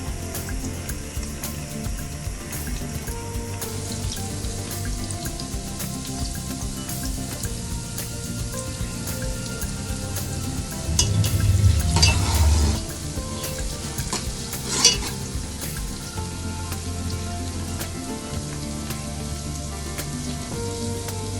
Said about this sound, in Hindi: देखिए प्याज ब्राउन होने लगी है